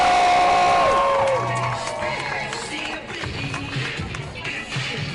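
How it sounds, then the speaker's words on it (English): Outdoor crowd of Britney Spears fans cheering and clapping, with whoops and shouts over broadband noise that starts loud and eases slightly while continuing throughout; voices call out within the crowd. "let's give a round of applause for her right now"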